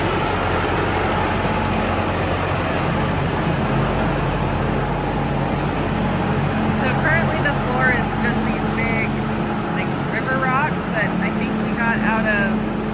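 An 85 horsepower tractor driving into a barn, its engine a loud, steady, close drone that runs without a break, with faint squeaky chirps in the later part.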